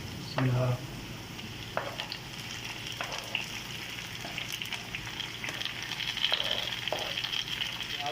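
Okra frying in a pan with finely chopped onion, tomato and ginger, a steady soft sizzle with periodic scraping stirs and a brief clunk near the start, heard close.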